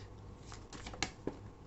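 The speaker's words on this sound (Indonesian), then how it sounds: "aku akan ambil satu kartu lagi." Tarot cards are shuffled and one is drawn, giving a faint, soft papery rustle with two brief sharp clicks near the end, quiet and close, with no talking.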